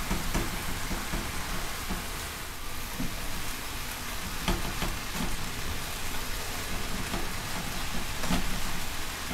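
Beef and onion sizzling in a hot pan while being stirred, a loud constant crackling hiss with occasional scraping clicks from the stirring, close up and without voices.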